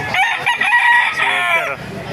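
Rooster crowing close by at a fowl market stall in Baliuag, one loud drawn-out cock-a-doodle-doo with faint clucking and background voices after it.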